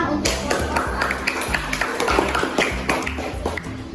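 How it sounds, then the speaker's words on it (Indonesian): A classroom group claps for a presenting team, a cluster of sharp, close hand claps with uneven rhythm, mixed with some tapping and faint background voices. "beri tepuk tangan untuk kelompok"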